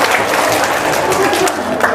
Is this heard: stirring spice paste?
no